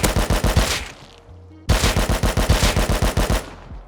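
Two rapid bursts of automatic gunfire in the survival game Rust, each a dozen or so evenly spaced loud shots, separated by a brief quiet gap.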